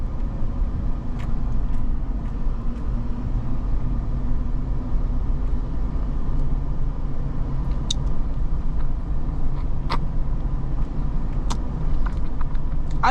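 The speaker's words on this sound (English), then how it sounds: "this truck's got a pretty smooth ride for being a big, bulky, body-on-frame, off-road oriented SUV" A 2007 Toyota 4Runner, a body-on-frame SUV, drives along with a steady low engine and road rumble heard from inside the cabin, continuous throughout with occasional faint clicks and rattles.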